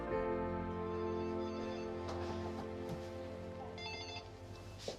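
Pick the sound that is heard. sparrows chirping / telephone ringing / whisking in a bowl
telephone ringing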